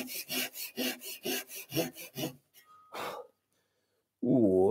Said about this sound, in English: so much more helpful with the Japanese saw, basically pulling towards you with the blade